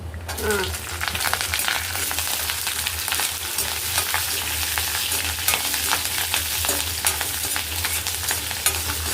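Chana dal, urad dal and green chillies fry in hot oil with mustard and cumin seeds, a loud dense crackling sizzle with stirring scrapes running throughout, close up and without talk.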